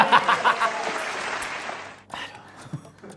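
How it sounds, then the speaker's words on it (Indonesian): Studio audience applause on an Indonesian TV quiz show, a dense burst of clapping with a little laughter that stops abruptly near the middle, leaving scattered quieter sounds and faint voices. "Tepuk tangan dong."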